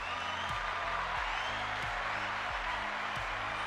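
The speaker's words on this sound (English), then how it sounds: "Round of applause from a live studio audience" Applause sound effect from a live studio audience, with steady, dense clapping and crowd noise that stays level throughout, with no voices on top.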